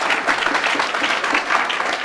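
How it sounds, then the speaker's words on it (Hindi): Audience applause after a call for a big round of clapping at an event honouring newly selected Bihar excise sub-inspectors, a steady, dense patter of many hands filling the room without a break. "एक बार जोरदार ताली उसके लिए।"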